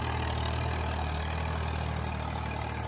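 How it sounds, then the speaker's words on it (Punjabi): A Swaraj 855 tractor engine runs at a steady idle, a loud, close diesel drone with a constant low throb and no break. "ਟਰੈਕਟਰ ਦੀ ਤੁਹਾਨੂੰ ਆਵਾਜ਼ ਹੀ ਦੱਸ ਰਹੀ ਹੋਣੀ ਆ"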